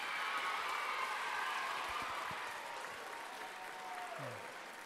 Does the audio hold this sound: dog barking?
no